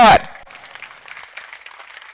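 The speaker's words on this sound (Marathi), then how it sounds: "हात वर करून सर्वांनी टाळ्या वाजवत्या" A crowd at a wrestling match claps in a scattered, fairly distant patter after a loud announcer's voice over a PA cuts off at the start.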